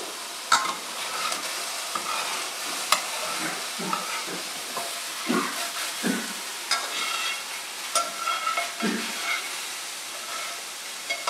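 Mushrooms pan-roasting for a yellow Thai curry, giving a steady sizzle and frying hiss with repeated stirring scrapes and clatters throughout, fairly close and without talk.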